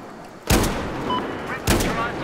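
Two heavy, booming QBS-09 shotgun blasts in Battlefield 4, fired about a second apart, close and loud with ringing tails amid game ambience.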